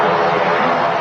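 Boeing Dreamliner airliner entering the active runway at Manchester Airport, a loud steady engine roar and hiss filling the whole moment without break.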